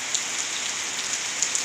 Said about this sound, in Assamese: বৰষুণ সেইফালে যোৱা